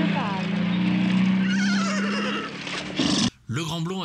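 A person imitates a horse whinny with a long wavering, quavering vocal neigh, close and loud, followed by brief talk.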